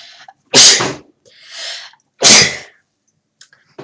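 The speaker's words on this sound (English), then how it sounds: "hold on, I gotta sneeze." Two loud, close sneezes about two seconds apart, each preceded by a sharp intake of breath, with quiet pauses between.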